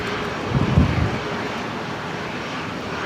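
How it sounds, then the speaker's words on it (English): An Embraer jet arriving at Brisbane Airport, its engines giving a steady broadband roar with a louder swell near the start, heard from a distance through light wind noise. "Beautiful Embraer there just arrived."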